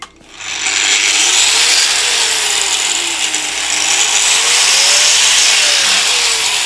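An angle grinder cuts metal on the floor of a Rover Mini under restoration, giving a loud, steady, high-pitched whine that runs without a break after a short start-up, with a faint wavering tone under it and no talk.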